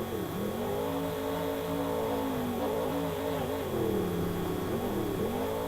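Grave Digger, Dennis Anderson's monster truck, races around an arena track at a Monster Jam event in Tampa, its engine roaring steadily and rising and falling in pitch as it revs through the lap.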